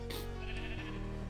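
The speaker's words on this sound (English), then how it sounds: "Sheep, get out the way." A single sheep bleats in a video game, one wavering, nasal cry up close, with game background hum continuing after it.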